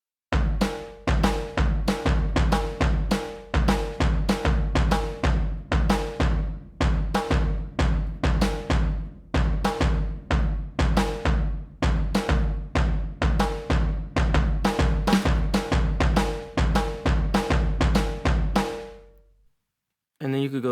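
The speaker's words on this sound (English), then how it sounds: "So it plays a hip hop beat" A hip hop beat built in FL Studio thumps in a steady, evenly spaced rhythm of punchy drum hits, loud and unaccompanied, before cutting out near the end.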